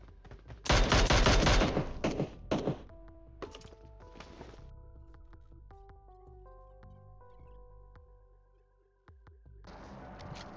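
Dense automatic gunfire in a battle royale game, a loud rapid burst followed by scattered shorter volleys, then game music tones and a renewed stretch of fire at the end.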